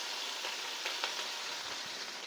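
Garlic and ground green chillies fry in hot oil in a home kitchen while making chicken fried rice, a steady loud sizzle with a few brief crackles and no talking.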